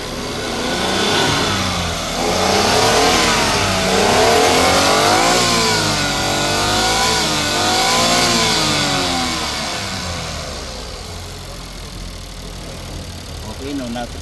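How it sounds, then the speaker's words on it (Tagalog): Suzuki DA17V van with a 4x2 Tiptronic AGS setup, its engine revving up and down in repeated swells, loud and close, with speech-like layers over the engine throughout. "Oh, ganda ng tunog niya. Kaya lang kulang ang gasolina. Ayan, try natin rev."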